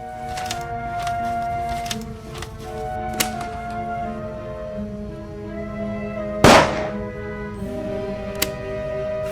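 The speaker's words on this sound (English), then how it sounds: "A shot is audible on the tape" A single sharp gunshot crack rings out partway through a tape recording, standing alone above a steady hum and faint tonal background with no talk.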